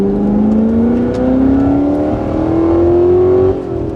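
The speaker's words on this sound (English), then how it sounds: "God, that supercharger whine gets me every time." A Corvette C7 ZR1 with a Callaway Aerowagen kit lets out a loud supercharger whine that climbs steadily in pitch as the engine revs, close and alone, then eases off near the end.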